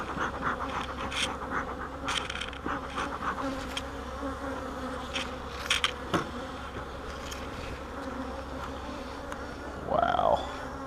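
Many honey bees buzz as a dense swarm around an apiary hive during a split, a constant close hum with occasional louder fly-bys passing near, and faint speech under it.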